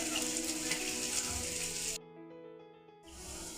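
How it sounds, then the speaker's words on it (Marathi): Chopped onion fries in a pan, making a close, steady hissing sizzle that cuts out for about a second before the sizzling resumes. "कांदा टाकून घेतल्यावर आपण याला फिरून घेऊया आणि गोल्डन रंगावर येईपर्यंत याला फ्राय होऊ द्यायचा"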